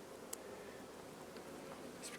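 Honey bees drone steadily around an open hive on a farm during a beekeeping inspection, a close, continuous buzzing with a few sharp clicks and knocks from handling.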